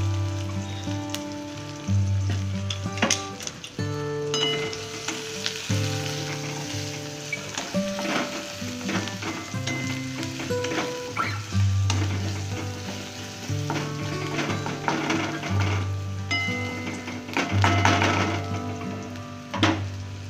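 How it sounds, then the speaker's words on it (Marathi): Onions sizzle and crackle steadily in a hot pan while soybean upma is being cooked, with faint stirring scrapes and a tonal background underneath, no talking. "कांदा आता लाल होऊ द्यायचा."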